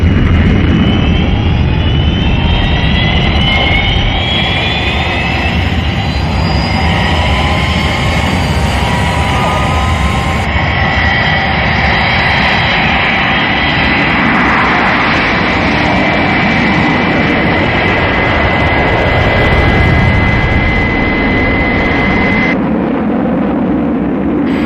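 A Fireflash jet airliner takes off at full power, a loud, steady jet roar with whining high tones that holds for the whole stretch, dropping off slightly near the end.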